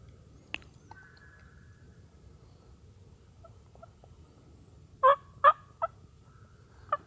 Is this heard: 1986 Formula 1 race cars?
no